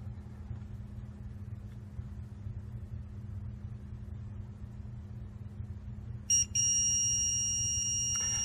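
A low crane engine rumble runs steadily, then a loud electronic overload alarm tone from the crane console starts abruptly and sounds continuously over it.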